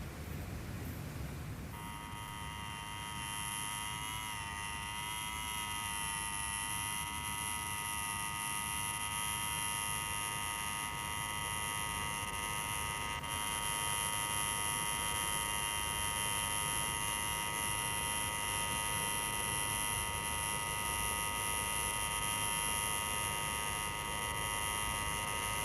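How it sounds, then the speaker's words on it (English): A buzzer held down continuously in an institutional setting, a steady loud electric drone with bright overtones starting about two seconds in and running unbroken to the end. "Take your finger off that bleeding buzzer."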